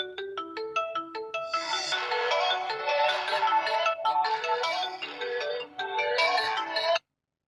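A second-hand mobile phone's speaker plays a ringtone alone: a bright, clear melody opening with quick plucked notes, then fuller chiming tones for about seven seconds before stopping abruptly.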